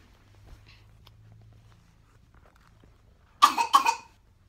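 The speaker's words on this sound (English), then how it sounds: "Have you got a cough" Two quick, sharp coughs close by, loud against an otherwise quiet room with a faint low hum.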